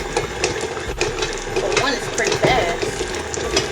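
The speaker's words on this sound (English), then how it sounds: "we're going to go ahead and turn the mixer on so we can mix up the butter" An electric stand mixer beats butter for vegan pumpkin cupcakes, giving a steady, busy mechanical whir with clatter that runs for the whole stretch at a moderately loud level.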